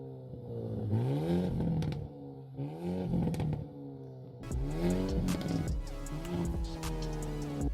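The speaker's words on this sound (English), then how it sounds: "2-liter 4-cylinder turbocharged sports sedan, and they do undeniably sound sweet even from the factory" A turbocharged 2.0-liter four-cylinder engine in a Hyundai Elantra N sports sedan revs repeatedly, rising and falling in pitch, with crackles between pulls and a louder, harsher stretch in the second half.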